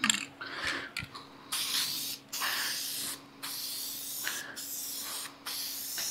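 A rattle can sprays paint onto an automotive part in repeated hissing bursts, about five sprays with brief pauses between, close and clear with no talking.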